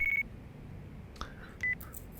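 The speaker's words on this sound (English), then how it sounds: "Oh, phone's ringing." A mobile phone rings in the video game Yakuza 4, heard as short, bright electronic beeps. One beep sounds at the start and another comes a moment later, with quiet game ambience between them and no talking.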